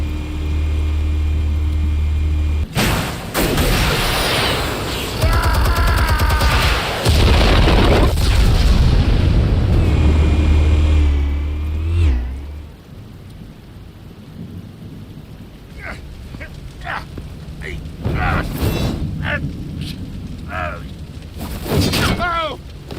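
Explosives detonating in Batman: The Telltale Series, heavy rumbling booms with a long roaring low tail that then drops away, followed by sharper scattered impacts, with voices speaking over parts of it.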